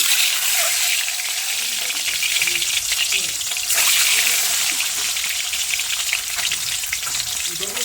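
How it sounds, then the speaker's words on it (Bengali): An egg fries in hot oil for an egg curry, giving a steady, close, loud crackling sizzle with brief pops that keeps on throughout without a break. "তেলটা তেতে গেছে ডিমটা তেলের উপরে দিয়ে দেবো"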